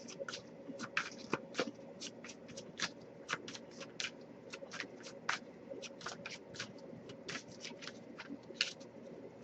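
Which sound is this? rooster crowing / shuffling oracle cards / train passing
shuffling oracle cards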